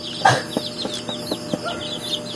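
Native chicken chicks in a brooder peep in a steady chorus of high, rapid chirps that overlap continuously, close and fairly loud.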